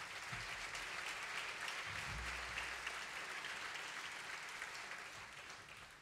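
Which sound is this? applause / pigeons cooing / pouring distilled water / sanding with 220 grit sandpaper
applause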